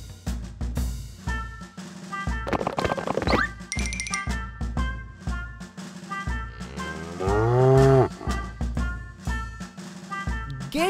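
A white cow moos repeatedly amid farm-animal commotion, several drawn-out, wavering moos, loud and close, mixed with other clanks and cries but no talk.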